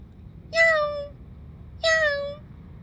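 Two clear, close meows about a second apart, each a drawn-out falling cry from a cat, with quiet background between them.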